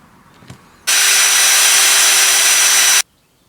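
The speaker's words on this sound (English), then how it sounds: "Put it in your electric drill, get one of these spongy emery pads, and then just run it on there" A power drill fitted with a spongy emery pad whirs loudly for about two seconds, rubbing a motorcycle bolt clean with a harsh abrasive sound, starting and stopping abruptly after a faint knock.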